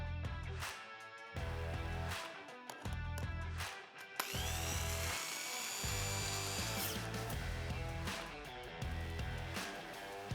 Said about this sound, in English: Remove this screw.